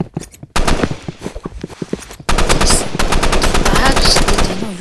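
Rapid bursts of automatic gunfire from the video game Rivals, loud and close, a sparser volley at first, then a brief gap, then dense, sustained firing to the end.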